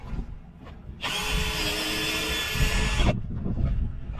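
A power drill whirs steadily for about two seconds, biting into wood up close, with quiet handling noise before and after.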